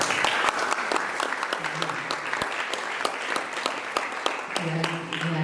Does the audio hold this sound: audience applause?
yes